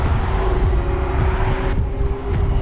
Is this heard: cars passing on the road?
yes